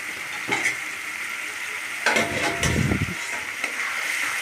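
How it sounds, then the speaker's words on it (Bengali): Cashew paste being stirred in a frying pan for a fish kofta curry, a soft constant sizzle broken by a few spoon scrapes and louder stirring bursts near the middle, with no talking. "একটু ভালো করে একটু নেড়ে নিলাম"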